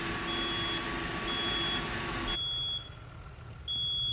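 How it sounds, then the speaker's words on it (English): In a firefighting video game, a building's fire alarm sounds steady, piercing high beeps in regular pulses over constant rumbling background noise. The noise drops partway through while the beeping continues. "So we got a fire alarm going in there."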